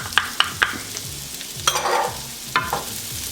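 Pork pieces and bell peppers fry in a pan for a pork-and-pineapple dish, a close sizzle broken by several sharp clacks of the utensil stirring against the pan.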